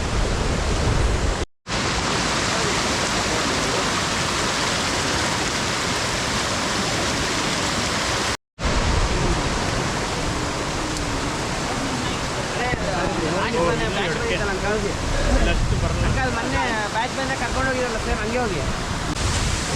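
A waterfall and stream on a forest trek near Sirsi make a loud, steady roar of rushing water that fills the whole clip, with two brief cuts and a voice talking faintly beneath it.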